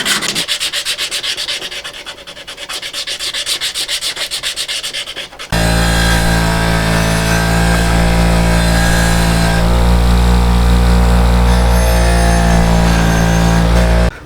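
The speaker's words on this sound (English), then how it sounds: "blending it together on the wire wheel" A wire wheel buffs the head of a vintage Plumb axe, first a pulsing scratchy whir, then the wheel bites harder into steady loud grinding and rubbing that runs on for over ten seconds.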